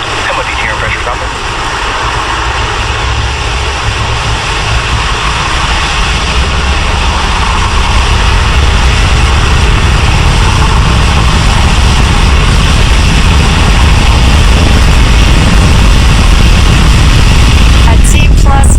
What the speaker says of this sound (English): At T plus 40 seconds, Falcon 9 has successfully lifted off from Space Launch Complex 40.